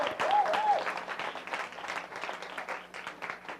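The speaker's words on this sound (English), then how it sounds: "Let's give them a round of applause." Audience applause at a live 5Linx business briefing presentation, a steady dense wash of clapping from a room full of people that stays loud throughout, with no talking over it.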